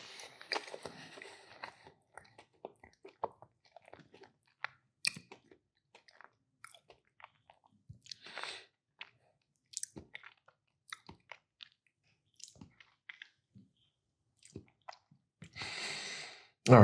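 Someone chews a crunchy Crumbl Dubai chocolate cookie, giving close, quiet, irregular crunches and bites separated by pauses, with soft breathing and a louder burst of crunching near the end.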